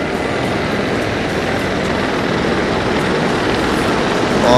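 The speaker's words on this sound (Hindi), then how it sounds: "गनशिप हेलीकॉप्टर्स की फॉर्मेशन" Formation of MI-35 gunship helicopters armed with anti-tank missiles, rockets and double-barrel guns flying over a Pakistan Day parade, a loud continuous rotor and engine roar with no pause, rising slightly at the end.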